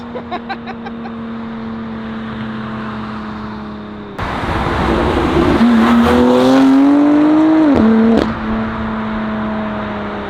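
A car with a race exhaust and midpipe idles with a deep burble, then bursts into a loud, raspy revving roar that climbs, dips, and settles back down.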